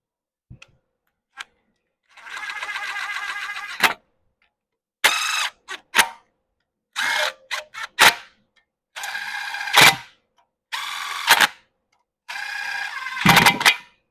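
A power tool runs up flex plate bolts on a T-bucket hot rod build in bursts of ratcheting, rattling impacts, several short runs separated by pauses, close and fairly loud.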